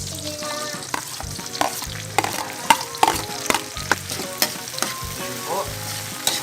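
Chopped tomatoes go into a pan of frying garlic and onion for squid adobo, sizzling steadily while a utensil stirs and scrapes in repeated bursts, close and clear with no talk.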